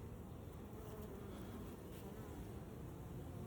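Honey bees buzz in a dense, steady drone while a hive is opened to add brood chambers. The hum fills the whole clip, close and continuous, with no voices.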